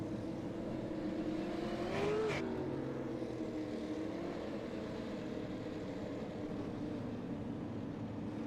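Race cars circle 5 Flags Speedway under caution during a winter derby before a restart, a steady engine drone with one car swelling past nearby, no talk.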